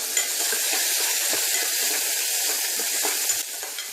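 Tomatoes, green chillies and dried red chillies sauté in a pan for a coriander chutney, giving a steady loud sizzling hiss with faint stirring scrapes throughout.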